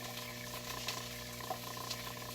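Green pepper fries in a pan for a meat tomato sauce, giving a steady, close crackling sizzle with a few small pops and no voices.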